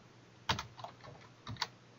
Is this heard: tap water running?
no